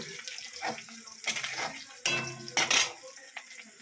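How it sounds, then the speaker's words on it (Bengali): Onions being turned over in oil in a pan for a chicken dish, with uneven metal clatters and scrapes of a spoon against the pan over a light sizzle. "এমনি করে তেলের মধ্যে দিয়ে ওলট পালট ওলট পালট কইরা কইরা এইরকম কইরা পেঁয়াজগুলো একটু নাড়াচাড়া করে লইবেন"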